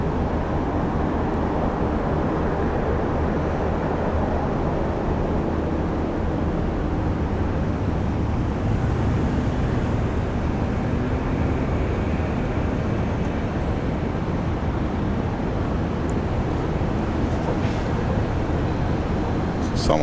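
A Qantas Airbus A330-300 airliner arriving at Brisbane Airport makes a loud, steady broadband roar that holds for the whole stretch without fading.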